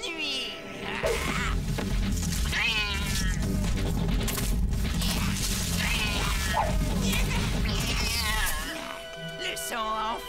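Repeated cat meows and yowls rising over a loud, busy backdrop of music and effects, with some talking mixed in.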